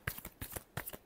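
Tarot cards are shuffled by hand in a brief burst of three or four soft, close riffling flicks.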